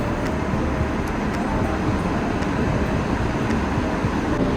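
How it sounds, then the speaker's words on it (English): Steady broadband rumble of a MARTA rail train at an Atlanta transit station, continuous and fairly loud with faint higher rattles, no talking. "look at the train."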